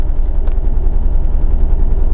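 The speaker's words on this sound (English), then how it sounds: "I see that it is idling a little bit high." A Porsche 914 engine idles slightly high while stopped at a stoplight, a loud low, steady rumble with a regular pulsing throb and a couple of brief faint clicks, no talk.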